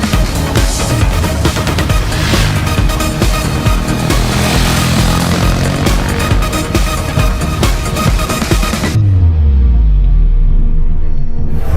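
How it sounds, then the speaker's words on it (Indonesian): A KTM Duke 390 motorcycle with a 373 cc single-cylinder engine idles loud and close with a steady broadband rumble, then revs and settles into a lower, falling drone toward the end. "Nah ini dia mesin dari KTM Duke 390."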